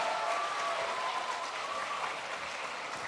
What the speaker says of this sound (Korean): 다시 한 번만 큰 박수 쳐주시면 좋겠습니다